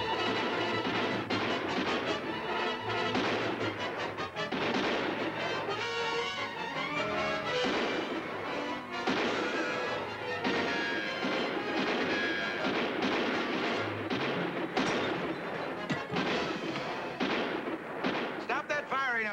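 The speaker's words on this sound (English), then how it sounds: "Stop that firing up there, you Carters." Gunfire from a shootout in an old Western-style standoff: dense, rapid reports and cracks rattle continuously over a busy, distant mix, loud and chaotic throughout.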